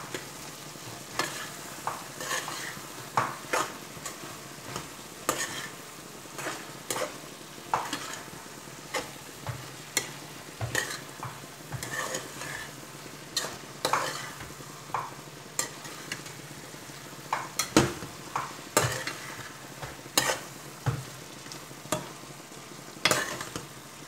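Chili powder and turmeric get stirred into a frying mixture, a steady sizzle punctuated by repeated sharp scrapes and clacks of a spoon against the pan, close and fairly loud, no speech.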